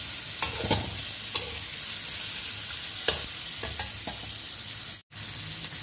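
Pakbet vegetables sizzling and frying in a pan, with a steady hiss and several scraping stirs of a utensil, close and continuous, with a brief dropout near the end.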